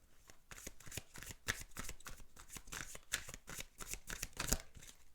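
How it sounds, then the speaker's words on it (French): Tarot cards are gathered and shuffled close up, a quick run of papery riffles and soft slaps in uneven bursts, quiet with no talking. "je vais remonter les cartes"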